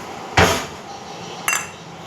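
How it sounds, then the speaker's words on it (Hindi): A metal spoon scrapes and knocks against a honey container in two sharp, close clinks about a second apart, with a quiet room in between and no speech over them. "इस तरीके से हम इसका सारा शहद निकाल लेंगे"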